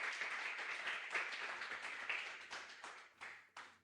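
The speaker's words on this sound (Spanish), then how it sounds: "¿Cuántos darían un aplauso al Señor por la palabra en esta mañana?" A church congregation claps at the end of a Spanish-language sermon, soft scattered applause that fades into a few separate claps, fairly distant and quiet.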